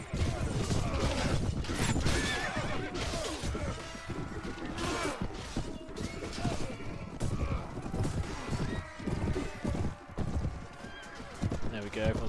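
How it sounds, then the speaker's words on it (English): Horses neigh and whinny over rapid galloping hoofbeats, crashes and thwacks during a cavalry charge in the Clash of Kings video game, a dense, loud, continuous battle din with a voice talking over it. "Did a bit of damage to someone's horse. Another horse went down."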